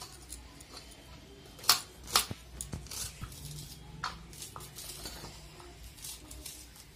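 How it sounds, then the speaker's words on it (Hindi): A small onion cut with a knife for an egg omelette, two sharp close taps followed by fainter, irregular cutting clicks. "प्याज मैं काट रही हूँ दोस्तों अभी"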